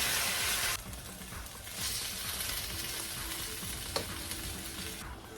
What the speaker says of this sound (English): add the beef and cook it until the beef is cooked